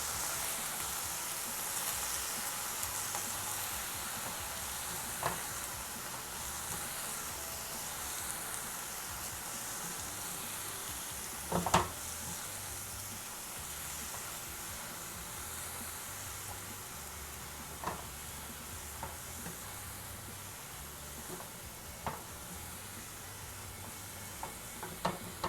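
Spinach frying in a pan for a Tamil keerai poriyal, a soft steady sizzle with occasional scraping stirs and light clinks of the spatula against the pan, fairly quiet throughout.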